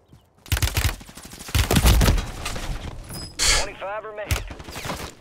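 Automatic gunfire bursts in the Warzone video game, several loud rapid volleys scattered across the moment, mixed with a player's talking and game effects.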